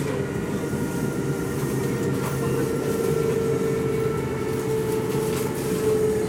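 A Kintetsu 2610 series electric train rolls into a platform with a steady low rumble and a sustained whining tone, loud and close, with no voices.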